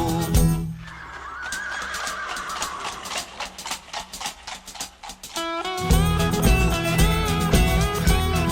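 A horse gives a long, loud whinny near the start, with rhythmic clip-clop and a song with music carrying on behind and over it.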